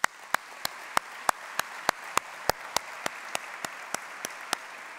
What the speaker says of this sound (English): giving yourselves a round of applause